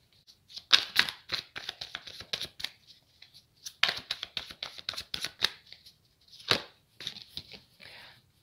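Tarot cards being shuffled, drawn and laid down at close range, a series of crisp papery riffles and flicks in quick bursts separated by short silent pauses.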